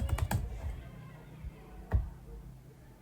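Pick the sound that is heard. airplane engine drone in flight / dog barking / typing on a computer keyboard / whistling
typing on a computer keyboard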